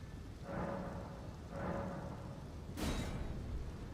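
Steady rain in the Elden Ring video game, a broad continuous hiss with two swelling gusts and a brighter rumble near the end, loud and unbroken throughout.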